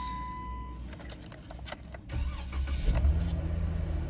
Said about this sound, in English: Starts right up, that's nice